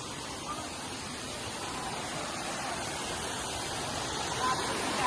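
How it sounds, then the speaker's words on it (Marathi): A waterfall flowing at Ajoba hills, a steady broad rushing wash of water, continuous and fairly even with a slight swell at the end, heard alone without talk. "हा बघा धबधबा चालू झालाय थोडा थोडा."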